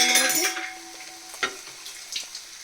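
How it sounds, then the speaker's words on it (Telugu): Okra fry (bendakaya) is stirred in a hot pan, with a brief burst of sizzling at the start followed by faint scrapes and light clinks of the utensil against the pan. "ఇప్పుడు ఇట్లా ఒక్కసారి మంచిగా కలుపుకొని స్టవ్ని ఆఫ్ చేసుకోండి"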